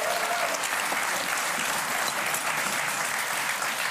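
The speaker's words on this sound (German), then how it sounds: "Applaus für den Salat hier." Studio audience applauding a fresh arugula salad on a TV cooking show, a steady dense wash of clapping that runs loud and unbroken for the full few seconds with no talk over it.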